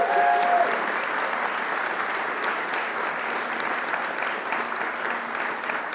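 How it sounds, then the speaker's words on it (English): An audience at a talk applauding, sustained dense clapping that holds at an even level throughout, close and full, with no other sounds standing out. "Can we give Alice another round of applause"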